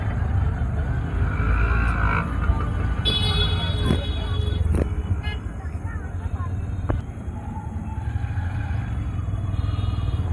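Vehicles sit stuck in a road traffic jam beside a political party rally. Engines rumble steadily up close with a few passing motor sounds and occasional horn-like tones.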